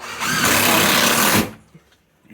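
A power drill drives a screw into a wall stud during a pantry remodel, one loud steady whirring burst of about a second and a half, then a sudden stop followed by faint knocks.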